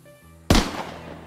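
A single sharp gunshot fired on stage during a theatre play bursts out loudly after a quiet stretch, then rings and decays into the hall's reverberation.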